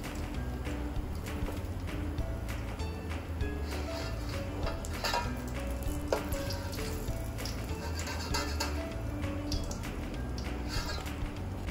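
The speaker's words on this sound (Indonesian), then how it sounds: "udang yang sedang kita goreng" Flour-battered shrimp deep-frying in oil in a small home kitchen, a steady dense crackle and hiss with scattered pops that runs unbroken throughout.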